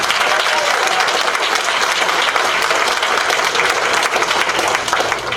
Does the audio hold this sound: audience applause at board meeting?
yes